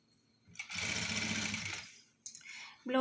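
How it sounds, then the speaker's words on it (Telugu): A sewing machine stitches piping onto a blouse in one steady, close run of about a second and a half, followed by a couple of short bursts as the stitching restarts. "ఈ టర్నింగ్స్ దగ్గర కొంచెం స్లోగా నిదానంగా కరెక్ట్గా చూసుకుంటూ మాత్రమే కుట్టుకోవాలి."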